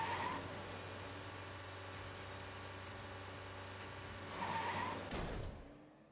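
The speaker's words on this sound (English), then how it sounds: "The delivery truck starts coughing up black smoke and skids to a halt along the side of the road" In the game Arknights, a delivery truck belching black smoke skids to a halt at the roadside: a steady engine rumble carries a tire screech near the start, a louder skid toward the end, then a sudden cutoff.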